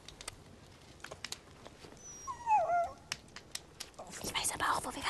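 A dog gives a short, thin whimper near the middle of the clip, faint under quiet rustling and soft, low German speech.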